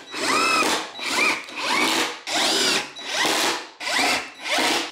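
A power drill drives 3-inch screws into a 2x4 while an engine run stand is built, producing six or so loud, close bursts of whirring motor that rise in pitch and stop, each about half a second long.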